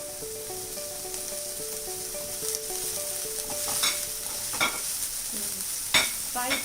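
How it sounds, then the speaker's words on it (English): Garlic and spring onion shallow frying in oil, a steady close sizzle with scraping stirring strokes and a few sharper clinks of the utensil. "Fry this too, shallow fry it."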